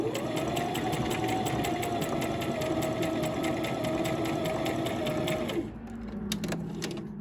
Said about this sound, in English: So you do your first stitch the entire length of the sleeve, and then you come back and you do a double stitch